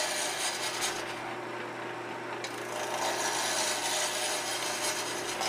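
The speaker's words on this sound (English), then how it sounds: "Finish up using a peeling cut all the way down the workpiece" A skew chisel takes a peeling roughing cut along a spinning workpiece on a wood lathe, producing a steady, close, rasping shave of wood that runs continuously with no break.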